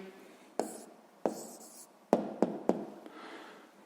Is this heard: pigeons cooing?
no